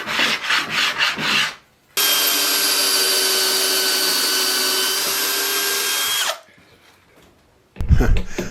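A power drill whines steadily for about four seconds while driving screws into a wooden wall-mounted whiskey display shelf, loud and close, framed by shorter bursts of wood rubbing and handling noise before and after.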